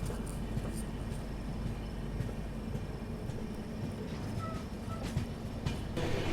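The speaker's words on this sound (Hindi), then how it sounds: "इसीलिए अपनी ट्रेन बहुत ही स्लो रफ्तार में अलीगढ़ जंक्शन को स्किप कर रही है" Vikramshila Express creeping slowly through Aligarh Junction under a caution order, heard from inside: a steady low rumble and broadband hiss with faint occasional clicks and squeaks, fairly quiet and continuous with no talking.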